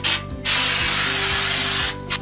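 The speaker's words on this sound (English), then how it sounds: "So as I spray, I'm using a circular pattern" Texture sprayer hisses loudly as it blasts wall texture in a bathroom, one long spray burst bracketed by shorter ones, with a faint low rhythmic pump pulsing underneath.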